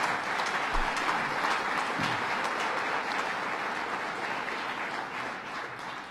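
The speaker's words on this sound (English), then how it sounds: "Let's give a round of applause to Dr." Applause for a speaker at a New York State budget signing in Buffalo, a steady, even roar of many hands clapping throughout, slowly easing near the end.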